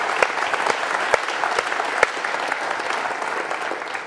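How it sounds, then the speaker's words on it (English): Sustained audience applause fills a symposium hall at Providence College, dense and steady with a few sharper claps standing out, greeting the women's basketball student athletes. "applause"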